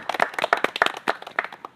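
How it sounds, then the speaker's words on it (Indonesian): A small group of scouts at a training session claps for a correct answer, a brief burst of distinct, uneven claps heard close by for under two seconds. "Tepuk tangan kita semua ya."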